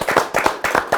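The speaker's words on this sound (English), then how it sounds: "clap" A small group of people clap in a quick burst, several sharp, close claps landing in uneven rhythm over about a second.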